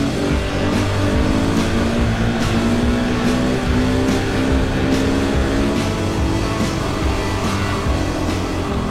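Motorbike engine revving hard while riding up a 100-metre sand dune and lifting into a wheelie, a loud continuous roar with rising and falling pitch, close and steady throughout.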